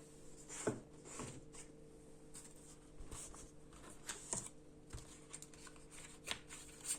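Small rune stones handled for a reading, giving soft rustles and scattered light clicks and taps over several seconds, close and low in level with no talking.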